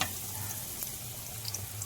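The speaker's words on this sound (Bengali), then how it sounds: "আটাগুলো তেলের মধ্যে দিতেই পিঠেগুলো সঙ্গে সঙ্গেই ফুলে উঠছে" Steady crackling sizzle of pitha dough puffing up as it fries in hot oil, close and continuous, with small pops scattered through.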